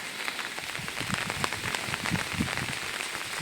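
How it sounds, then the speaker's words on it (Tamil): Heavy monsoon-style rain pours steadily in a village where cattle and goats are kept in a shed, a dense continuous patter of drops striking surfaces close by with no voices. "மழை பொழிந்து கொண்டு இருக்கிறது"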